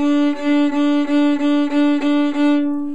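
Clean, steady fiddle tone on a single pitch, bowed at 90 degrees to the string, sounded loud and close in a series of even back-and-forth bow strokes.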